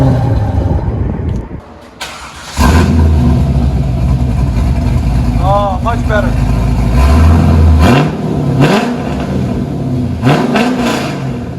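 A Chevrolet Corvette's 5.7L LS1 V8 engine revs up in a few strong surges heard from inside the cabin, with a person speaking briefly over the rumble.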